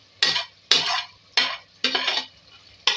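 Fried onion and capsicum stirred in a pan for a capsicum and bitter gourd dish, five sharp scraping strokes in an even rhythm, each followed by a short sizzling hiss, close and without talk.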